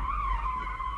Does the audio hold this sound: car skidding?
yes